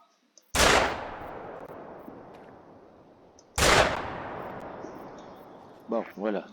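An over-under double-barrel shotgun in the hunting game The Hunter: Call of the Wild fires two loud, sharp shots at ducks about three seconds apart, each with a long decaying echo. Brief quacking-like calls follow near the end.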